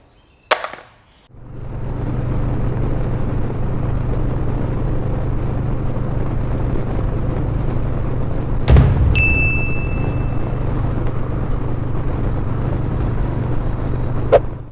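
Motorcycle ride recorded through a Movo microphone with wind-noise protection: a brief handling thump, then a steady droning engine and road rumble with a sharp click and a short whine midway, no talk.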